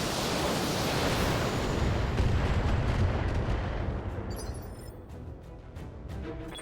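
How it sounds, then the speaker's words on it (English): A Battletech mech fires a full weapons salvo, a dense roaring barrage of blasts and missile launches that holds loud for a few seconds and then slowly fades into a rumbling tail. "Firing a full salvo."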